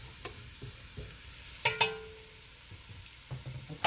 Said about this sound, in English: I'm going to go in with the celery and the carrots, and we're just going to start sauteing up the vegetables